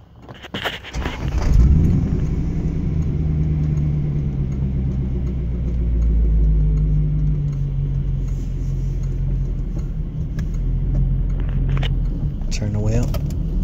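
A 1996 Corvette C4 with a manual transmission pulls away, its engine rising into a steady loud rumbling drone that holds while people talk inside the car.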